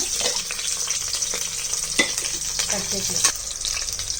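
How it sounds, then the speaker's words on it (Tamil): Curry leaves and green chillies frying in hot oil for a vegetable pulao, a dense close sizzle with crackles and a few utensil knocks, no talking. "இலை எல்லாம் எடுத்திருக்கேன் எல்லாமே எண்ணெயில் போட்டுக்கலாம்"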